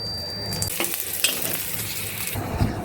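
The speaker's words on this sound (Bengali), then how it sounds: "আমি এখন শুকনা মরিচটা আর রসুন কুচিটা তেলে টাইলা নিব ভালোভাবে" Dried red chilies fry in hot oil, a continuous soft sizzle with faint stirring scrapes and small clinks, fairly quiet with no one speaking.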